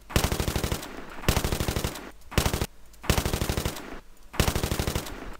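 Loud bursts of rapid automatic gunfire, five or six separate volleys with short pauses between them, no voices.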